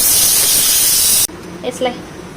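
A pressure cooker releases steam in a loud, steady hiss for just over a second before it cuts off, followed by quieter kitchen sounds and a faint voice.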